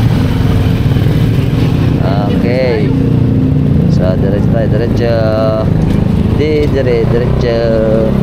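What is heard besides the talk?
motorcycles in street traffic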